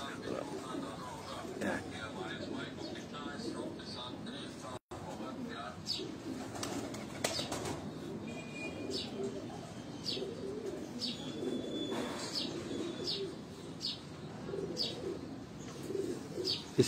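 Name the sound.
breeder pigeons cooing and flapping wings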